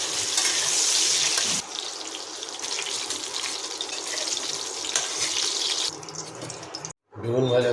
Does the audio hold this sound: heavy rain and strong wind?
no